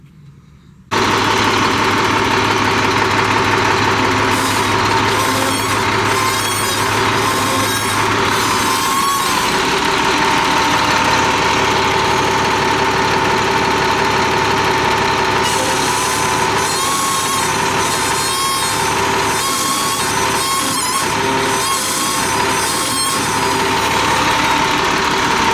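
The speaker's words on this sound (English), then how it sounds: "we're gonna try and chase the steering issue and see what the squealing is" A rock truck's diesel engine runs loud and steady at close range while a faulty steering control valve squeals during turning, the high whine rising and falling in bursts over the constant engine rumble.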